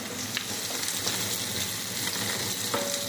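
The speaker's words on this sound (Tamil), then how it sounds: "இப்போ வந்து கலந்து விட்டுருங்க இல்லைன்னா கொஞ்சம் சிவப்பாக வர வரைக்கும் வதங்கட்டும்" Chicken masala with ginger and garlic sautés and is stirred in a pan, giving a steady close sizzle with occasional scraping stir sounds throughout.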